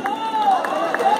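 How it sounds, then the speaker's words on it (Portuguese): A crowd at a frevo flag-bearer contest applauds and cheers with a steady, dense roar, while a loud whistle-like tone rises and falls over the noise. "Vamos aplaudir o Miraci"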